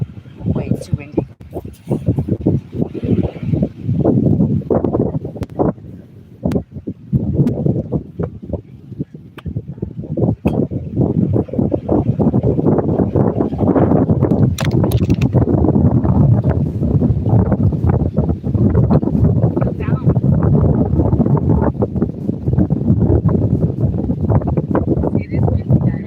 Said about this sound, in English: Wait, it's too windy.